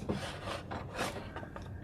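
Small metal flaring tool worked around the end of a tube on an alcohol burner, giving close, dry rubbing and rasping scrapes in a few uneven strokes.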